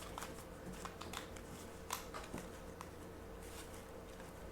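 A worn, bent modern tarot deck being shuffled by hand, giving soft rapid riffling and patter with scattered sharper card taps over a steady background hiss, no voices.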